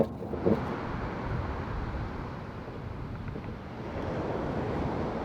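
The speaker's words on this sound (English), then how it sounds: "We got some beautiful waves this morning." Ocean waves at high tide on a San Diego beach with light offshore wind make a constant, fairly loud broadband surf roar, mixed with wind buffeting the microphone.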